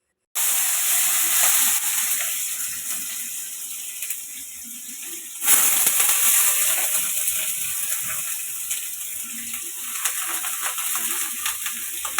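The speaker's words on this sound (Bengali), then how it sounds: "এখন হচ্ছে আলু ভাজা করবে" Potatoes fry in a pan with a steady, loud hiss of sizzling oil that runs throughout, briefly swelling partway through, with no voices.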